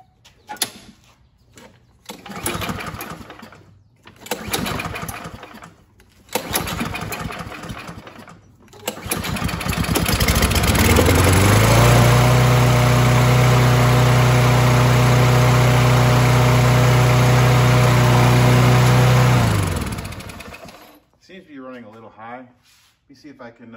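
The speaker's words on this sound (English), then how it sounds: "For the moment of truth, this should be easier to start now. So let's give it a yank" Kohler engine on a Lawn-Boy mower pull-started after carburetor cleaning, firing up after a few recoil tugs and then running at a loud, steady drone for about eight seconds before shutting off.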